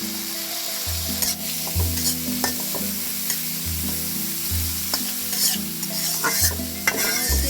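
Chopped onions and green chillies fry in hot oil, a constant close sizzle under repeated rhythmic scraping stirs of a spatula against the pan, with a low steady hum beneath and no talking.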